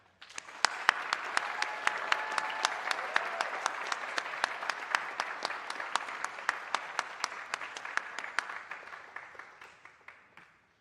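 Scholarship recipients at a graduation ceremony receive applause from the audience. Sharp individual claps stand out over a dense, steady crowd patter that rises quickly, holds for about ten seconds, then tapers off.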